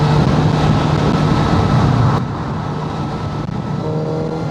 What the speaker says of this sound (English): I was quite surprised at how well this bike picked up